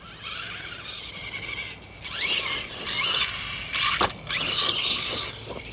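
An RC car with an Axe 3300 motor ramps up under throttle, giving a whining, rising mechanical drone that swells and dips over several pulls, with gear-like rattles and no talking.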